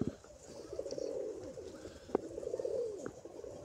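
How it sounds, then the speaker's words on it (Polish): A Budapest pigeon coos softly in low repeated throaty phrases, fairly quiet, with a couple of faint clicks and light background noise. "to jest ich gołąb"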